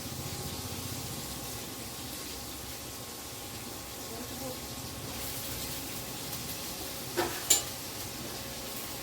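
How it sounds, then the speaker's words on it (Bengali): Vegetables and cooked rice frying in ghee in a home kitchen give a steady, soft sizzle throughout, with a couple of brief sharp clinks near the end. "এবারে সবজি আর ভাতটাকে ভালো করে ঘিয়ের সাথে আমি ভেজে নিচ্ছি।"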